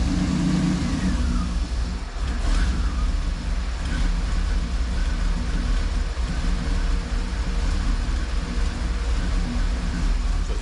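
A 1988 Camaro IROC Z28 engine sits idling with a steady low rumble, close and continuous, with some faint clatter over it.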